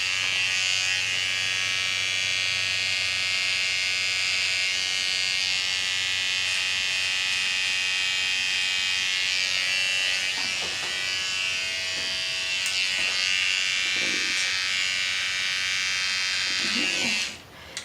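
An electric trimmer buzzes continuously through a big beard, cutting hair back toward the ear, a loud steady hum with slight changes in pitch as it meets the hair.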